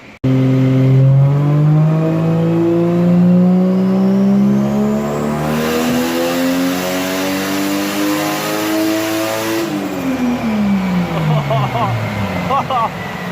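Toyota Cressida with a 1JZ engine and new manifold making a boosted dyno pull at 12 psi: loud, continuous engine roar climbing steadily in pitch through the revs, then backing off near the end.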